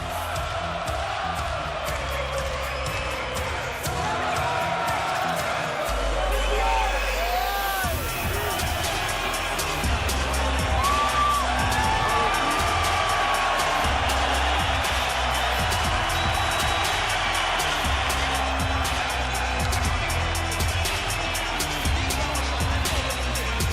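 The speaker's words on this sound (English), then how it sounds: "And the crowd responds to Triple G." A boxing arena crowd cheers for Gennady Golovkin, a broad, steady roar of many voices filling the hall, with a commentator talking over the noise.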